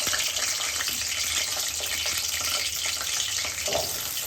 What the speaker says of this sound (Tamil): இப்போ பூண்டு நல்லா வதங்கிட்டு இருக்கப்போ இந்த நேரத்தில் சின்ன வெங்காயத்தையும் போட்டுருக்கோம்.